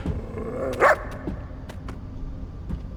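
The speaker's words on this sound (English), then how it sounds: "It's just an ordinary dog." A dog in The First Descendant video game gives a single sharp bark, fairly close, followed by faint game ambience and a few soft clicks.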